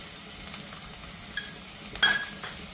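Onion, tomato and ginger-garlic paste sauté in a pan with a soft, steady sizzle and a couple of quick spatula scrapes near the end, heard close and fairly quiet.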